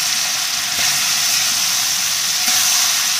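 Greens, potato and onion frying in a pan, giving a loud, constant hissing sizzle that runs unbroken throughout, close up, with a faint scrape or two.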